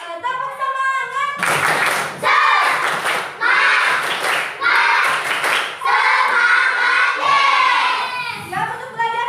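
Schoolchildren in an Indonesian classroom perform the tepuk semangat chant, loud rhythmic bursts of group clapping alternating with shouted voices in a lively, near, repeated pattern.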